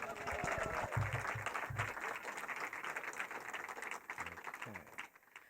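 Live audience applauds and cheers for a singer at an evening show, a moderate wash of clapping with a few sharper nearby claps and faint voices, fading toward the end.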